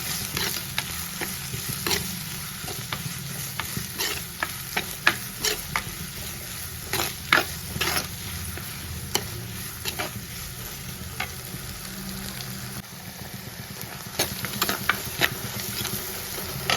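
Onions frying in a pan for kadala curry, a steady loud sizzle with repeated scraping stirs throughout, close and alone.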